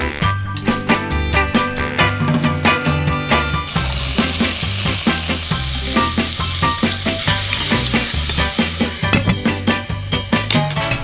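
Onions and garlic fry in a pan with a loud, continuous crackling sizzle, punctuated by stirring and clattering as the pan is worked, close and clear with no talking.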